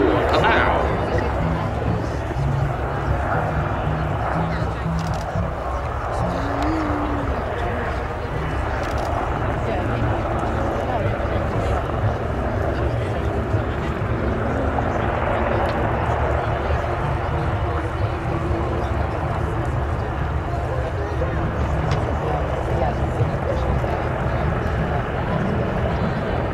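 Two Westland Wildcat helicopters hover low at the RIAT air show, a steady broadband rotor and engine roar filling the air continuously at fairly close range, with a commentator talking over it.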